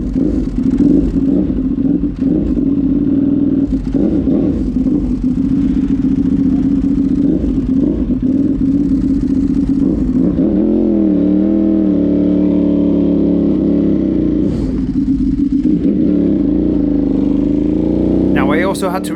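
A Pikes Peak Ducati race motorcycle laps the Big Willow circuit, its engine a loud, sustained droning buzz heard close up, shifting pitch and tone midway as gears change, with wind roar throughout.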